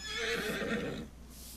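A horse in the Farming Simulator 25 video game gives a loud, close whinny lasting about a second, its neigh rising and trembling before fading, heard alone.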